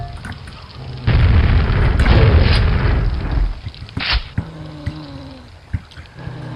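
Grenades burst in Quake, a heavy boom that rumbles for a couple of seconds, then a second sharp blast follows, with fainter pops and clatter trailing off afterward.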